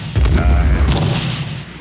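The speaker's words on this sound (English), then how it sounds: "Bomb blast is coming down, and sounds like explosions in the distance." A distant bomb blast from the 1991 Gulf War bombing of Baghdad rumbles as a deep, heavy boom that rolls on with a low, muffled tail.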